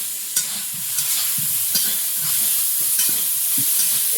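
Spices, including turmeric, salt and cumin powder, frying in a pan, with a constant sizzle under repeated spatula scrapes and taps in a quick, uneven rhythm close by.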